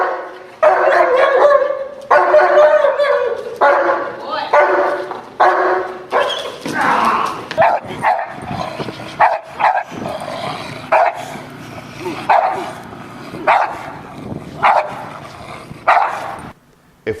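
A protection dog barks repeatedly and forcefully at a decoy during a training exercise, with rapid bursts of loud, close barks broken by short pauses and occasional whines.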